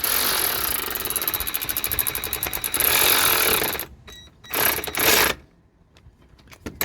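A power tool tightens a sway bar bracket bolt on a 2012 Hyundai Accent, giving a loud rapid rattling hammer for several seconds, then a few shorter bursts before it stops.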